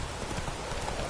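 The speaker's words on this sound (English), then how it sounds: "Run, Roach" Galloping horse in The Witcher 3 video game, a quick run of muffled hoofbeats in a brief burst, loud and close with no talk.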